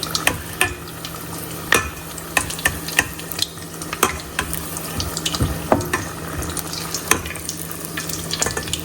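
Lobster and seafood egg rolls fry in hot oil until crisp and golden, with a constant crackling sizzle broken by sharp clicks and clatters roughly every second, and no one speaking.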